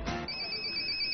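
A telephone ring tone sounds on a Chinese TV game show as a call connects: a brief burst of studio noise followed by a steady electronic tone that holds to the end.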